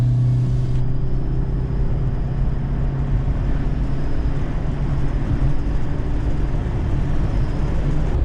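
Turbo-style whistle fitted to the exhaust of a Toyota Prius while it drives, a steady thin tonal whine riding over continuous low road and engine rumble, close and even throughout.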